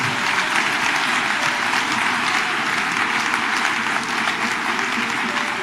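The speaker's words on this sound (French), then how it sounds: "Jésus, vous applaudissez Jésus." Audience at a church sermon applauding steadily, a dense, sustained wash of many hands clapping at close range for several seconds without pause.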